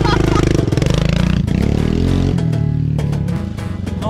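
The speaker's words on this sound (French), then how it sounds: "je suis obligé de mettre les gaz en grand pour essayer de garder la moto droite" A motorcycle engine revs hard at full throttle on a toy store ramp, loud and close, with a rough buzzing drone that wavers as the throttle is held, and rattling clatter mixed in.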